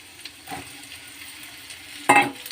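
Shredded cabbage drops into hot oil in a pan with a soft low rustle, then a sudden louder burst of sizzling near the end, close and without speech.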